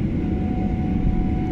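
A Qatar Airways passenger airplane at Jakarta airport produces a steady, loud engine roar with a thin whine above it, continuous and nearby throughout.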